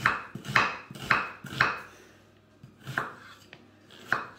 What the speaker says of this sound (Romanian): am tăiat imediat ceapa